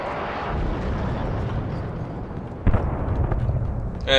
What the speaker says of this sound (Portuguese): Os caras derrubaram o helicóptero, é isso?